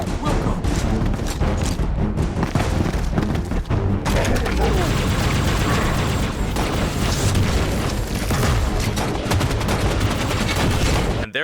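Repeated explosions and gunfire from a Halo fan animation, including a blue plasma grenade, make a dense, continuous barrage of booms and crackling bursts, loud and close throughout, with voices mixed in.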